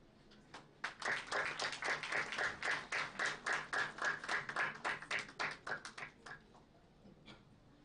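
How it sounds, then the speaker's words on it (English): Audience at an international management conference gives a welcoming round of applause for a guest, steady overlapping hand claps swelling in and then tapering off to a few scattered claps, moderately near in a hall. "Let us once again acknowledge our distinguished guests with a warm round of applause"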